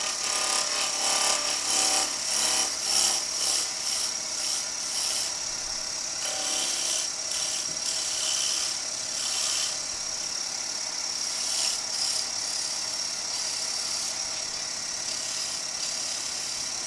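A woodturning lathe spins steadily while a tool skims the surface of the timber, a continuous high scraping hiss with faint rhythmic fluctuations.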